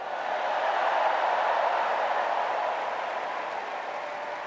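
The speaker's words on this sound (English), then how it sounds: "Let's give a special round of applause to our First Lady," Steady, dense applause from a large convention crowd in Chicago greets First Lady Jill Biden, a continuous wash of clapping that holds evenly throughout with no talk over it.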